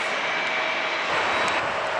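Steady roar of MD-90 airliner jet engines, loud and continuous, with a broad rushing whine throughout and no voices.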